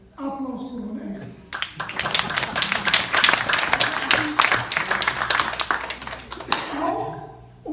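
Audience applause at a 4 May remembrance ceremony in Amsterdam's Indische Buurt, a burst of brisk clapping that swells after a spoken line, holds for several seconds, then fades as a voice resumes.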